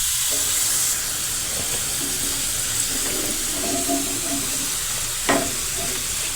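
Potato chips frying in hot oil for homemade crisps, a steady broadband sizzle running throughout the clip with no voices, with a brief sharper crackle near the end.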